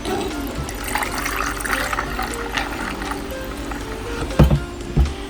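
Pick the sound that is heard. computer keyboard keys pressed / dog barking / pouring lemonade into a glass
pouring lemonade into a glass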